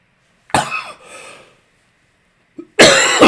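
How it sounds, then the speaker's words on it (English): Close, loud coughing from a presenter during a webinar: a sharp cough, a brief raspy tail, a pause, then a short throat sound and another forceful cough. "I'm going to pause and cough here for just a moment."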